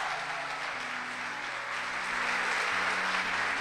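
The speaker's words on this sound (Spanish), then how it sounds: "Dale un fuerte aplauso" A church congregation at a Corrientes worship service breaks into loud, sustained applause, a steady wash of many clapping hands with faint low tones underneath and no clear speech.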